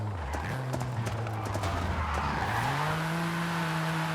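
A car in Forza Horizon 5 spins out with tires skidding, a sustained screeching squeal over a revving engine whose pitch dips and then climbs steadily, close and continuous throughout.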